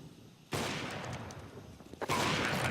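A Counter-Strike match on Overpass, with a burst of rapid rifle gunfire breaking out after a quiet moment, then a second loud volley near the end.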